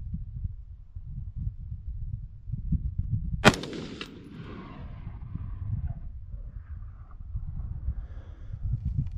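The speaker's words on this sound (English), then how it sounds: "I'm gonna fire one round" A single loud, sharp gunshot from a Palmetto State Armory AR-15 rifle with a four-power scope at an outdoor range, a sudden crack followed by a short decaying echo over steady low background rumble.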